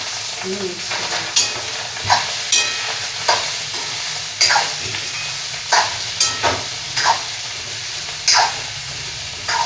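Boiled potatoes are stirred into a drumstick leaf curry in a pan, with a spoon scraping and knocking in irregular strokes over a constant soft sizzle, close up.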